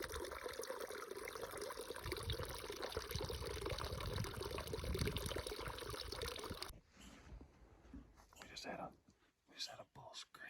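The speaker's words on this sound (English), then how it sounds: "you got water flowing right here" Spring water from a Colorado mountain stream trickles and splashes steadily up close, then cuts to quieter outdoor sound with soft whispered voices.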